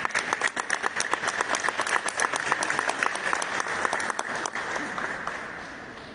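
Dense audience applause at a Peruvian ministry ceremony receiving a traditional art and crafts collection, greeting a regional winner from Arequipa; sharp, close clapping rolls on steadily before slowly thinning out.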